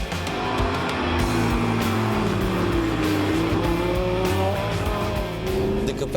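A Lamborghini Gallardo LP 560-4 with its 5.2-litre engine is driven hard, a loud continuous engine drone with rising and falling pitch and brief tyre squeal, close and alone.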